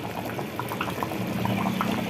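Chinta chiguru mutton curry boiling in a pot, a continuous close bubbling and gurgling with small pops, steady throughout.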